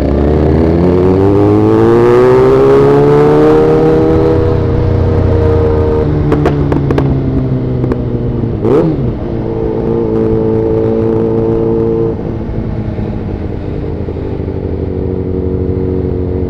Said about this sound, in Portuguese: CV300 do Tigrão, minha motinha.